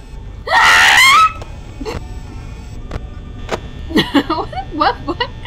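A loud, harsh jumpscare scream from the Five Nights at Freddy's horror game at night five, one sustained shriek lasting under a second, followed by a player's gasping and clattering game noises.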